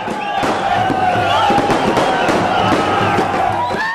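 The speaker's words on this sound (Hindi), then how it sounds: "हर तरफ आतिशबाजी है" Fireworks bursting outdoors during street celebrations of Pakistan's cricket win, a continuous rapid crackle of pops and bangs with whistling rockets layered over a crowd.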